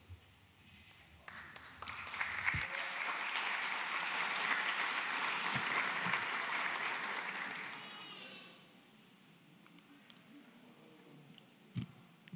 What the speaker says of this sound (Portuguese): Obrigado aí pelas palmas